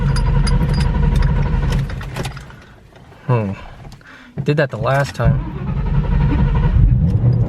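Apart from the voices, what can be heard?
Ford Mustang GT500 engine cranking and starting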